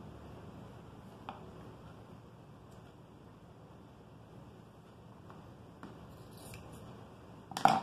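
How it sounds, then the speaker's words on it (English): Scissors cut through a T-shirt just behind the seam, giving a few faint, sparse snips over quiet room noise, with a louder burst of cutting right at the end. "And then you are literally going to cut this. So I cut behind the seam."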